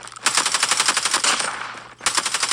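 Rapid automatic gunfire from Call of Duty Mobile, a loud sustained burst of evenly spaced shots, a brief pause, then another burst resuming.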